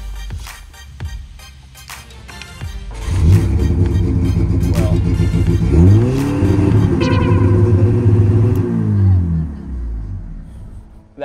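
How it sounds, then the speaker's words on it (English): Engine of a cheap Ferrari roars with a stuck throttle: a few sharp clicks, then a loud sustained rev that rises and falls, close and dominant before tailing off. "Oh my gosh, the throttle is stuck."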